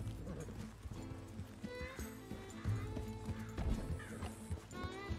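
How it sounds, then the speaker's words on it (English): Several horses in Red Dead Redemption 2 trot along with steady clip-clop hoofbeats and an occasional whinny, set against background music and ambient game sound. "That's a lot of horses, man."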